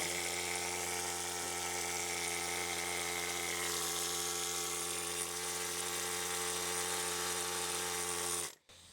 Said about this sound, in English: Mine were pretty bad, so I ended up using a needle scaler.